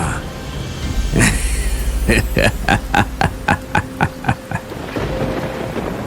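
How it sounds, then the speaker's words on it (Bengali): A thunderstorm with strong wind in a Bengali horror cartoon: a sharp thunder crack, then a string of loud, evenly spaced pulses over a rushing, rain-like wash. "জোরে বাতাস বইতে শুরু করে আর বিদ্যুৎ চমক"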